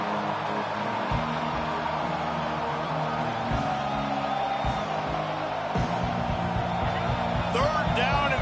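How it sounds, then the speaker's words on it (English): A home crowd roars at a football game, a loud steady wall of cheering and whooping from a packed stadium, continuous beneath a commentator's voice. "this crowd will blow out a vocal cord to help this defense"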